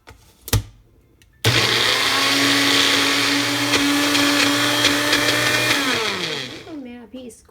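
A kitchen blender whirs loudly and steadily for about five seconds, mixing baby food with Himalayan salt, then winds down. A short clatter and a brief voice come just before the motor starts.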